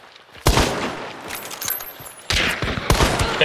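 Gunfire in the video game Hunt: Showdown, a loud close volley of sharp overlapping shots with two sudden heavy bursts, no speech over it.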